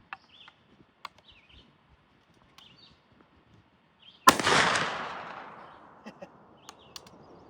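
Springfield Model 1884 trapdoor rifle firing a 405-grain load, a single loud sharp report with a long decaying echo trailing off, preceded by faint scattered clicks and bird chirps outdoors.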